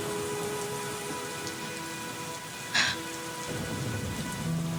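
Theatre sound effect of a rainstorm with thunder: steady hissing rain throughout, a brief bright crack partway, then a low thunder rumble rolling in near the end.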